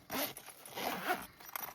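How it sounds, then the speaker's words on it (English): A zipper slides open on a Fantasm Industries Ghost or Phantom tool case in one quick, close, continuous pull. "Let's go ahead and open the zipper on him."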